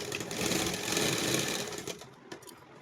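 A sewing machine stitches a plastic off-shoulder top, its close mechanical whirr running steadily for about two seconds before slowing and stopping with a few faint clicks.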